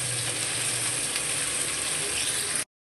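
Water spinach with salt frying in a pan for kolmi shak, a close, steady crackling sizzle that holds evenly for a few seconds before cutting off.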